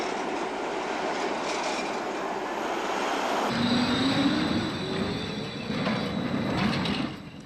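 A British-built prototype road liner tram runs along the Blackpool promenade with a steady rolling rumble, rising wheel squeal and rail hum lasting several seconds, close and fairly loud.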